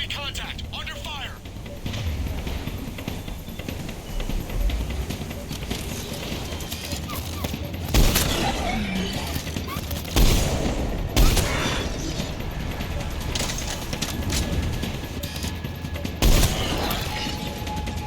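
Gunfire in a firefight in the video game Mass Effect 3, with sharp, loud shots at scattered intervals over a steady, rumbling battle din.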